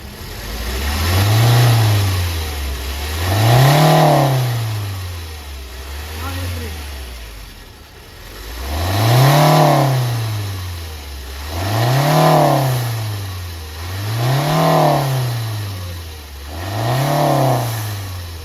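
A car engine with turbocharger underboost revs repeatedly, rising and falling in six distinct surges with brief idle dips between, loud and close.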